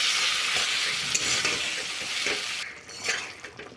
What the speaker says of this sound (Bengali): এখন দেব কেটে রাখা আলুটা মশলার সঙ্গে একবার কষে নেব